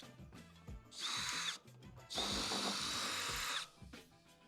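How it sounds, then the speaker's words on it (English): Two bursts of a high-pitched power drill whining as it grinds the inside edge of an aluminium horseshoe race plate, close and loud, separated by a short pause, with light clatter around them. "Just nibbling a bit out that inside edge as you've rolled the drill bit into it."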